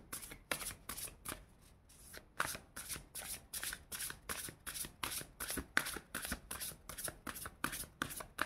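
Tarot cards are shuffled for a reading in a steady run of soft, rhythmic riffling bursts, quiet and close, with no talking over them.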